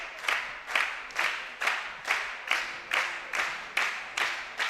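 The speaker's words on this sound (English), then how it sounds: "The crowd clapping along." A crowd at a rifle shooting championship claps along in a steady rhythmic beat, about two claps per second, loud and even with no voices over it.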